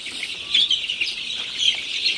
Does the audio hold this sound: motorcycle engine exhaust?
no